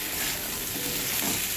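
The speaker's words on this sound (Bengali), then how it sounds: "সজনে ডাঁটাটা দেওয়ার পরে মশলাগুলো দিয়ে আলুর সঙ্গে ভালো করে কষিয়ে নেবো" Drumsticks and potatoes fry and get stirred with spices in a pan, a continuous close sizzle with scraping stir sounds throughout.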